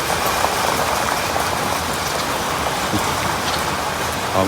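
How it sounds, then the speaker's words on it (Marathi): Steady first-of-season rain pours down in a dense, even hiss, close and fairly loud, with no voices and a faint low thunder rumble underneath. "पहिला पाऊस जमलं तर भिजू थोडासा"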